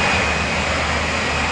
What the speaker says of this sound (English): is powered by a combination of a rocket and the jet engine from a Typhoon fighter